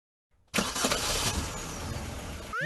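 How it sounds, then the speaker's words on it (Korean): A car engine cranks and catches indoors in the video game Trickcal Revive, bursting from silence into a loud, sustained revving roar that holds steady, ending with a rising whine. "어째서 실내에서 엔진 소리가?"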